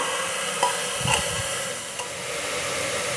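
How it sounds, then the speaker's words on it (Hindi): Sambhar ingredients are stirred in a pan over a constant frying hiss, with a few soft scrapes and clicks of the spoon close by and no talking. "इसे हम अच्छे से मिलाएंगे पहले"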